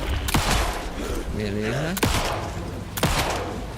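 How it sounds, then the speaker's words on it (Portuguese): Gunshots in the video game Alan Wake 2, three sharp loud blasts spaced about a second apart, with someone speaking briefly between them over game background sound. "Foi só tiro na cabeça agora."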